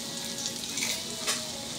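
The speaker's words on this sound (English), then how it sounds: "It's sizzling, it's sizzling." Chicken fajitas sizzle on a hot plate, a steady crackling hiss with small pops, heard up close and alone.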